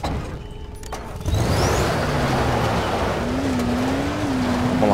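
Car in the video game Dying Light starting off after a quiet stretch, its engine rising into a steady rough roar with some tyre noise, loud and close, no talking.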